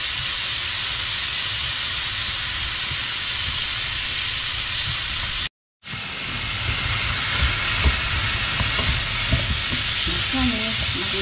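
Celery stir-frying in a pan gives a constant loud hiss and sizzle that cuts out for a moment, then resumes with crackling pops and faint clatter near the pan.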